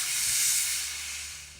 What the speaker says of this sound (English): so go ahead and let the rest of that pressure out.